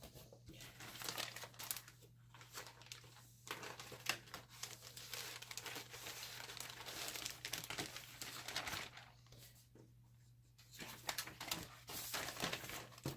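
Paper crinkles and rustles steadily up close as scrapbooking sheets are packed back into a holder, a continuous crackling with brief pauses and no talking.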